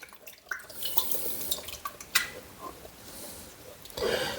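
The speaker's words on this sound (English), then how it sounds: "I'm just going to mix that sourdough starter in with that water." Sourdough starter is stirred into 100 millilitres of water in a kitchen container. The stirring gives close, irregular light clinks, taps and wet scraping sounds, with a louder swirl near the end.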